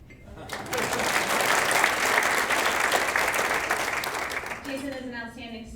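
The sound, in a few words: audience applause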